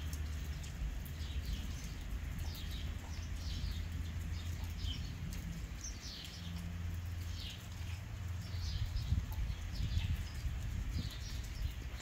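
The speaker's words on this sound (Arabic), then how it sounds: "سامعين صوت العصافير؟" Small birds chirp outdoors on a wintry day, repeated short high twitters scattered across the scene over steady low rumbling background noise, moderately faint and fairly distant.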